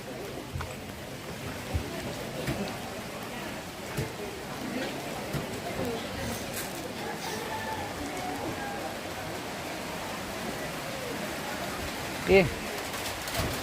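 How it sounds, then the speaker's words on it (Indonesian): Rain falling on a tarp at a funeral gathering at a tongkonan in Toraja, a dense steady patter throughout with occasional louder drops and a sharp knock near the end. "Wah, hujan."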